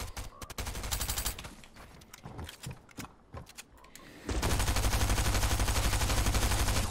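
Rapid SMG fire in the Fortnite video game, with scattered shots early on, then a dense sustained burst of automatic fire that holds loud and close through the final seconds.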